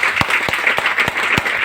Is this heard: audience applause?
yes